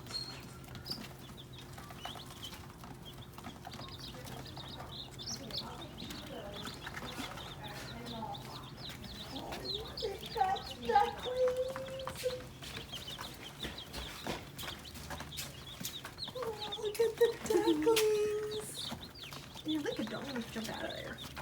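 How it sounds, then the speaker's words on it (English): Cayuga, khaki and black Swedish ducks and little bantam chickens in a farmyard give faint clucks and brief wing flaps against steady background noise, mostly under people talking. "They're Cayuga, khaki, and black Swedish ducks. Phantoms. Bannies. Little Bantam chickens. Little ducks."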